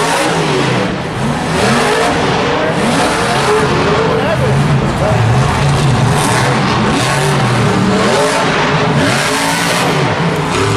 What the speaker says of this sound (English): So he's just spinning that truck around